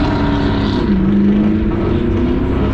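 A car's engine revs steadily and loudly on the Las Vegas Strip, a sustained droning roar with a brief rise in pitch, close by amid street noise.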